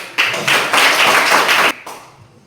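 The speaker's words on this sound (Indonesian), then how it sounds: "Tepuk tangan untuk Cicak." Classroom applause for a student bursts out suddenly, a short burst of brisk group clapping lasting about a second and a half before stopping abruptly and leaving a faint tail.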